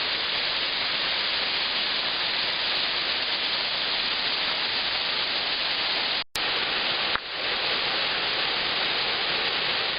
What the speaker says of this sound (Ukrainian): Ось зараз водоспад з лівої сторони.